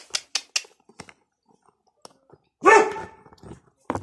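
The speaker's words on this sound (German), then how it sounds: "ich muss kurz den Hund ruhig stellen" A dog barks indoors in a few short, sharp bursts close by, one louder yelp standing out among scattered clicks and small handling noises.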